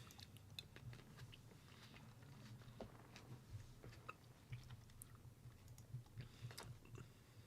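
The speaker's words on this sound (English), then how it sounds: "Let me know if you can hear me chewing grapes." Grapes being chewed close to the microphone, a very quiet run of soft wet squishing and crunching bites repeating irregularly with no talking.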